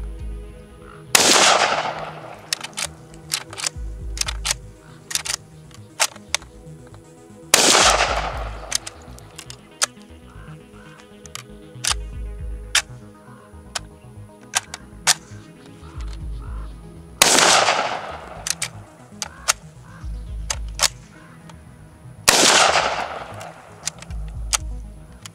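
Four sharp, loud Kalashnikov rifle shots ring out several seconds apart, each with a short echo, separated by faint clicks and rattles of handling.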